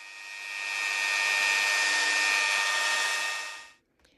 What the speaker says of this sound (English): We use a cordless electric drill to cut this metal sheet, looking for some short circuits and corrosion.